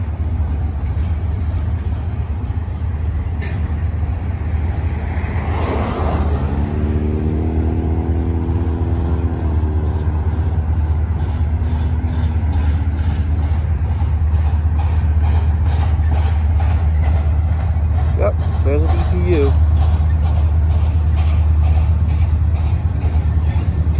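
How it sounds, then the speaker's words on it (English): A Union Pacific intermodal freight train with a mid-train DPU locomotive rolls past steadily, its low continuous rumble overlaid by a droning engine passage and, later, a rapid rhythmic clatter of wheels over rail joints. "I can hear a DPU."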